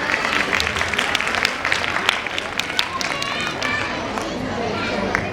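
A crowd claps loudly for a girl at a school annual function, a dense, steady patter of many hands that runs the whole way through, with voices mixed into the noise.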